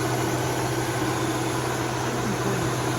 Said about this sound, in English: the compressor does peak, but it peaks and short cycle and goes back